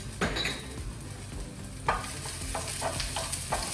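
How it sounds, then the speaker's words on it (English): Chopped onion sautés in oil in a pan, a steady close sizzle with occasional stirring scrapes and clicks throughout, without any talking. "I'm going to saute a little bit before you put in the garlic."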